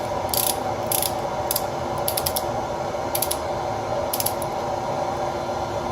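Ratchet wrench cranking ARP fasteners on a Honda F20B VTEC turbo engine build, a series of quick clicking bursts repeating every second or so, close and steady over a constant background hum.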